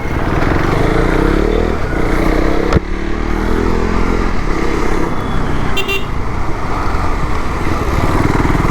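A motorcycle without ABS rides on a road, the engine loud and close with a shifting rev, a sharp knock partway through and a brief horn-like toot near the end, no talking.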